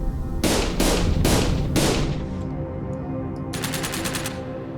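Gunfire from prototype first-person shooter games: four loud, sharp bursts of shots in quick succession, then a rapid volley of lighter, crackling shots a moment later.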